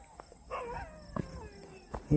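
Village dogs bark and howl at dawn, several short yelps and drawn-out howls at a middle distance, scattered and irregular, with a faint rooster-like call behind.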